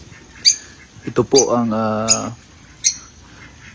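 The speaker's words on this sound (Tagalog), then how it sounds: "African lovebirds" Sharp, high-pitched African lovebird squawks recur every second or so, with a person talking briefly in the middle.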